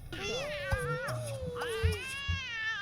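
A cat in The Sims 2 meows twice in long, drawn-out, wavering calls, close and clear, with soft game sound effects thumping underneath.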